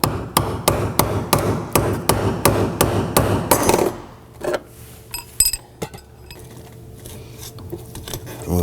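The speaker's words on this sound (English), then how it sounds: "Brass punch, hammer, and let's go ahead and loosen this." Sharp metallic hammer strikes on a brass punch, loosening the fuel pump lock ring on a 2018-2024 Toyota Camry, about ten steady blows for four seconds, then scattered knocks and clinks in a quieter garage.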